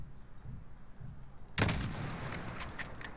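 A single rifle shot cracks out at a distant target in Call of Duty: Modern Warfare 2019, a sudden sharp report after a quiet ambient stretch, trailing into echoes and faint mechanical clicks.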